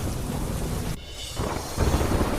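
A downpour in Didwana district, Rajasthan, roars as a steady, loud hiss of rain, dipping for a moment before surging back heavier.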